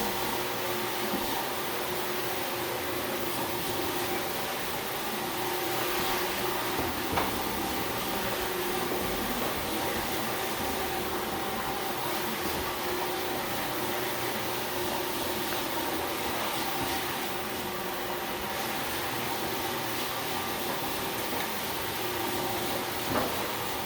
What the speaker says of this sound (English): When you use a buffing machine